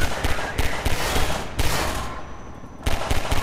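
Rapid bursts of gunfire in Half-Life 2, loud, close and repeated in dense volleys, with a short lull before firing resumes.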